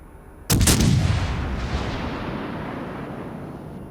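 In a naval video game, a warship's heavy guns fire a single loud, booming salvo at islands, followed by a long rumbling echo that slowly fades over several seconds.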